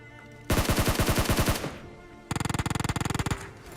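Rapid bursts of gunfire in PUBG Mobile, fired around a flare gun, come in two loud, dense rattling volleys with a short pause between, with no talk over them.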